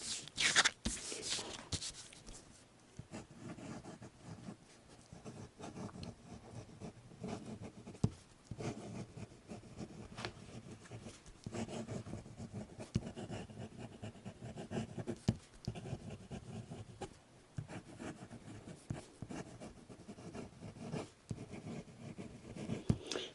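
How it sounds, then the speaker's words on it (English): A Knox Aristotle fountain pen scratches softly across copy paper, writing in a continuous quiet stream of small strokes, faint and close, with no voices. "The pen still writes nicely."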